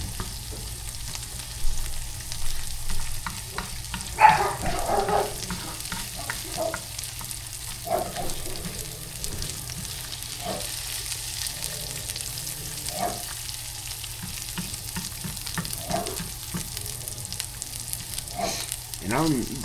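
An egg frying in a pan sizzles steadily for about twenty seconds, with a low hum underneath and occasional scrapes and taps as it is nudged around to keep it from sticking.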